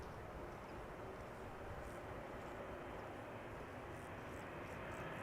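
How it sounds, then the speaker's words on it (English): A KLM Embraer 195-E2 airliner arriving from Porto at Amsterdam Schiphol, its engines a steady broad roar that holds at constant loudness throughout, with no voices over it. "E2 Embraer 195 KLM flight 1570 is arriving next, arriving from Porto in Portugal."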